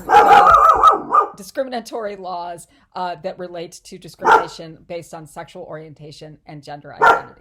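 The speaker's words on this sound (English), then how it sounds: "Sorry about my dogs." Dogs bark loudly near the microphone in a short burst at the start, with another brief yip later, while a person talks steadily over and between them.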